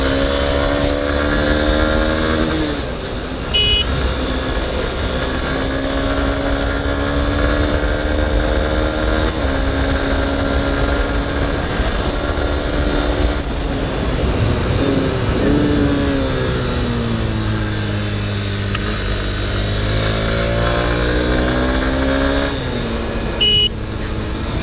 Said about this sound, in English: Really like the sound that's coming out from the engine,